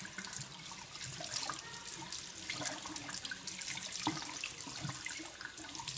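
Tap water runs steadily into a sink while a two-year-old boy washes it, a close, continuous splashing stream with no pauses and no talking.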